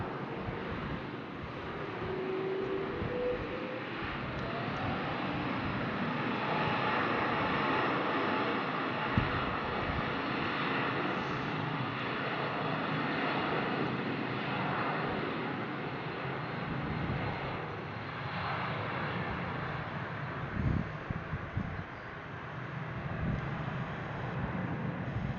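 Singapore Airlines airliner at Brussels Airport readying for departure, its engines producing a steady, distant broadband roar with some wind noise, continuous for the whole stretch.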